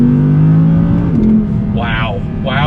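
A Chevrolet C8 Corvette's engine blips and shifts pitch on downshifts while braking out of a turn, with a loud, steady mechanical drone running throughout up close.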